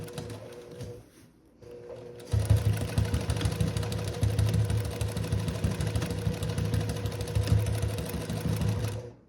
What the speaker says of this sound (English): I am gonna sew along the rectangle here, making sure to reinforce along that edge.